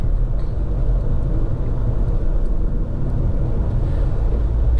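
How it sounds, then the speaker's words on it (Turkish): Inside a Renault Taliant cruising at 110 km/h, steady tyre and road noise forms a loud, continuous low roar and rumble that fills the cabin with no one speaking. "tekerlek sesi özellikle çok fazla geliyor"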